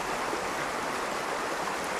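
Water flowing in a stream in Bryce Canyon, a steady, close, broadband rushing and burbling that continues unbroken throughout with no voices.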